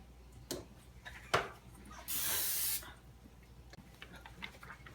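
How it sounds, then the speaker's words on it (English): Cooking oil spray is sprayed into a cooking pot in one short, bright hiss lasting under a second, after a couple of sharp clicks and taps, over an otherwise quiet room. "grease the pot with some oil or spray"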